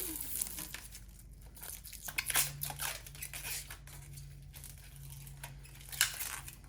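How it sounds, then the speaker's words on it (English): Plastic wrap crinkles and tears as it is peeled off a new Kenmore refrigerator mullion, in quiet, intermittent rustles with a few sharper snaps. "Don't forget to remove the plastic from the new Mullion."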